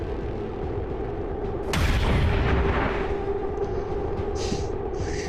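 Sniper rifle fire in the XCOM 2 video game, during a supply raid mission on Legendary Ironman difficulty: a single loud, sharp game gunshot bursts out over steady background game ambience, followed by a decaying rumble and a few faint high chirps.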